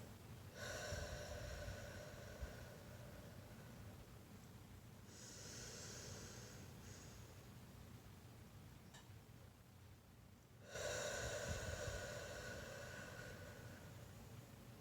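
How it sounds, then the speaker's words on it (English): Slow guided breathing close to the microphone: a long drawn inhale, a softer airy exhale, then another strong breath in, all over a steady hiss of background noise. "Take 5 breaths in and 5 breaths out."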